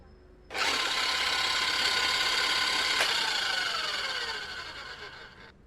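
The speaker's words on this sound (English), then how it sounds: "Now we want to whisk the content." Whisking a mixture in the video game Cooking Simulator produces a steady, bright mechanical whirring that starts abruptly, holds for several seconds and fades near the end, with no voices over it.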